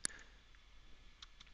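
A computer mouse clicked during image editing software work, one sharp close click followed by a few fainter soft clicks in a quiet room.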